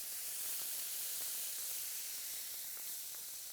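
Garlic sizzling in a pan with browned bacon, a steady broadband hiss and crackle with faint pops, continuous and close throughout.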